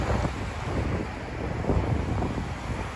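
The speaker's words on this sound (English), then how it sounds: "It is crazy windy." Strong night wind in Midtown Manhattan, a steady loud rush buffeting the microphone throughout with no voices.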